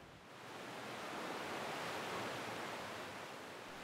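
Strong wind-driven waves and turbulent water churn at the mouth of the Yangtze River, a steady broadband roar that swells slightly and stays loud throughout with no voices.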